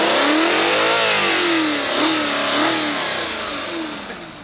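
An Audi RS5 with a naturally aspirated engine revs in rising and falling sweeps, loud and close, climbing sharply, easing back, then surging twice more before settling into a fading drone.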